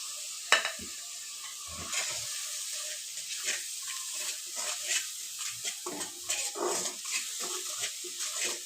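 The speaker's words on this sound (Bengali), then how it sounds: "এখানে আমি মশলাটাকে ভালো করে ভেজে নিচ্ছি" Powdered spice masala fries in a pan for a small-fish bhuna, soft sizzling under repeated scraping and stirring strokes that come in uneven bursts, fairly quiet and close.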